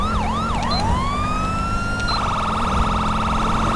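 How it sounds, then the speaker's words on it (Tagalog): A GTA V police siren wails loudly and close, first with a fast yelping sweep, then a rising tone that settles into a rapid warbling phaser pattern over a steady engine drone. "Ba't nakakarinig ng wangwang?"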